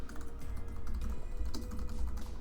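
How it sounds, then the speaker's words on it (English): Rapid, irregular typing on a computer keyboard, close and fairly quiet, with dense clicks running throughout and no talk. "you're going to hear a lot of typing from this"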